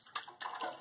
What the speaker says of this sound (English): Mommy splashes.